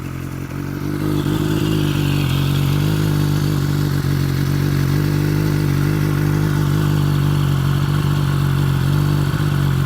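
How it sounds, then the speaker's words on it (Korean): A used BMW S1000RR sportbike idles loud and close, its steady engine drone carrying a faint metallic clutch basket rattle throughout, with no speech. "캠체인 소리보다 클러치 바스켓, 클러치 방 안에서 나는 소리가, 찰찰거리는 소리가 더 나요."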